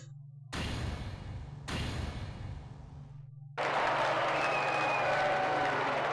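A courtroom crowd in the Phoenix Wright: Ace Attorney – Trials and Tribulations video game breaks into dense clapping over a low hum. The clapping comes in two short bursts, then swells into a louder, sustained round of applause with faint higher tones layered in.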